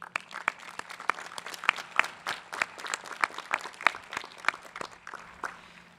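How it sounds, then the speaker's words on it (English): Applause from a large crowd at the Marist College undergraduate commencement ceremony: dense, steady clapping with sharper individual claps standing out, sustained for several seconds. "think that deserves a round of applause"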